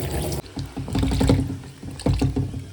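Vegetables, including eggplant, being washed under a running kitchen tap, with a close, steady stream of water splashing and sloshing over them and no talk.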